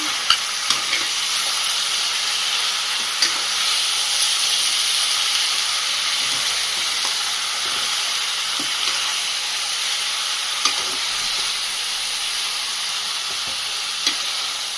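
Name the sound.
mutton curry mixture cooking on high flame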